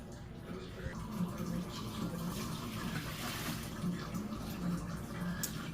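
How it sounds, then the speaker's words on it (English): Hot water pouring from a tap into a canner, a soft continuous splashing and running trickle, faint and steady, with a voice murmuring in the background. "I put about 2 quarts of hot water in the canner."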